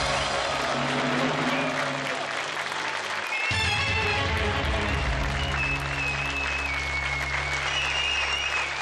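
A television quiz-show studio audience applauds continuously, a dense wash of clapping lasting throughout, with a music cue entering partway and faint speech in the background.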